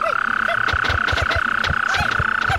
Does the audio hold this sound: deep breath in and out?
no